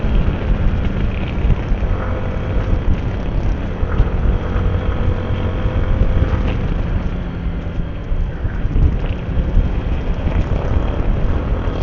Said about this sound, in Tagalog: grabe talaga yung simoy ng hangin dito